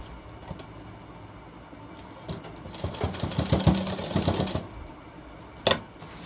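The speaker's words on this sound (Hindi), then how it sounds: "तो चलिए दोस्तों ये सिलाई अटैच करते हैं" Sewing machine stitching along the edge of a shirt, a few seconds of steady mechanical whirring rising mid-clip over a quiet room, then a single sharp click near the end; no talking.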